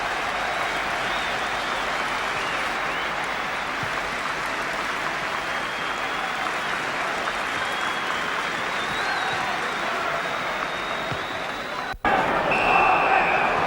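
A 38,000-strong football crowd at White Hart Lane applauds Dave Mackay during Tottenham Hotspur against Derby County in 1970, producing a steady, dense roar of clapping that runs evenly throughout and swells slightly louder near the end.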